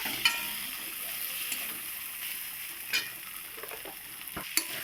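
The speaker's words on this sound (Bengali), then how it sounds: "দেখুন কত সুন্দর মশলা দিয়ে ভাজা হয়ে গেল পটলটা" Pointed gourd (potol) frying with mustard masala in a pan for sorsha potol gives a steady, soft sizzle, broken by a few sharp clinks of a spatula scraping the pan, with no voices.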